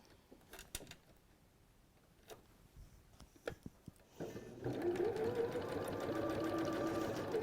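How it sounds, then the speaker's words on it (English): A sewing machine stitches through quilt fabric pieces for a wildflower meadow quilt, a steady mechanical whir with its rhythmic needle chatter starting partway through after a few quiet handling clicks and taps. "you want to sew through that apex so that you get a nice clean point"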